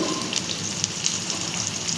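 Chopped onions and garlic frying in hot oil for a Tamil kofta curry, giving a steady crackling sizzle throughout with fine popping, close and even, with no talking.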